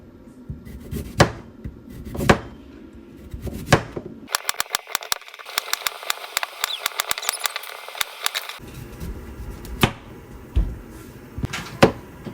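Knife chopping spinach, broccoli and carrots on a cutting board in a home kitchen, with a few loud separate chops, a quick rapid run of taps in the middle, then more scattered cuts.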